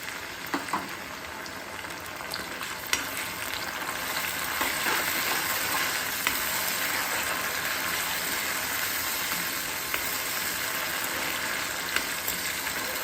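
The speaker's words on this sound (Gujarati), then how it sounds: "ડુંગળી સંતળાઈ ગઈ છે એટલે આપણે છે ને તેમાં ઝીણા સમારેલા ટમેટાં ઉમેરી દઈશું." Chopped tomatoes hit sautéed onions in a hot pan for a dhaba-style sev tomato curry, giving a steady, close sizzle and frying hiss with occasional stirring scrapes and no talk.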